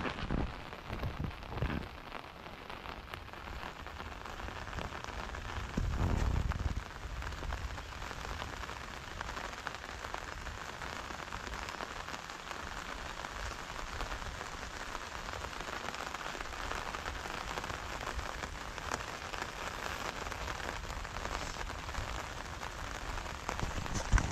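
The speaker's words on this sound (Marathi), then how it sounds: "आणि पाऊस पण लागतोय." Steady monsoon rain falls on the Konkan coast throughout, a dense continuous patter on surfaces, with a brief low rumble of thunder partway through.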